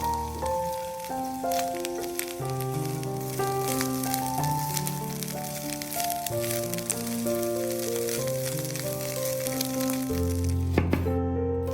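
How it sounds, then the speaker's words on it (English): Chicken and vegetables sizzle and crackle as they are tossed in a pan. A continuous, close frying hiss lies under a prominent layer of melodic background music, and a sharper clatter comes near the end. "Add to the pan and toss around for 2 minutes."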